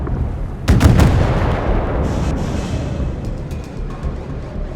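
Naval artillery fire in the warship video game Force of Warships, a single heavy cannon blast followed by a long rumbling tail and scattered faint impacts.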